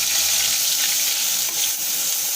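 Crushed shallots and garlic sizzle in hot oil for an egg gravy, a loud close steady hiss with faint crackles and no voices.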